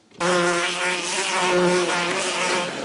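A loud, continuous electronic buzzer drone on a TV quiz show, with a harsh, steady tone, holding for a couple of seconds without pause.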